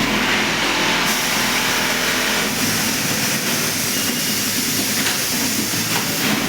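Kansai Special 8803GD industrial sewing machine stitching, a steady loud mechanical whir with continuous hiss running evenly throughout, no pauses or speech.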